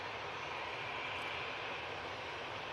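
A Loganair Embraer ERJ 145 regional jet at Manchester Airport produces a steady, even engine roar that stays constant throughout, with no voices.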